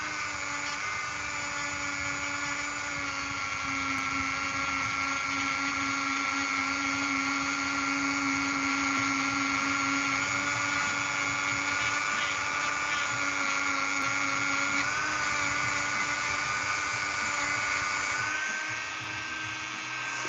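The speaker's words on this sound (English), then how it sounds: "I do enjoy this with the Dremel" Steady high-pitched whine of a Dremel rotary tool shaping a cheese knife, running continuously at close range with slight pitch shifts and a brief drop near the end.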